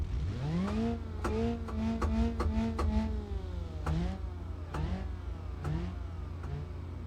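Rally-modified Wendover engine in the BeamNG driving game, revving hard in repeated rising bursts with gear-change dips, loud and close, no talk.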